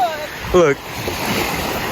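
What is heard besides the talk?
ocean waves coming in at the beach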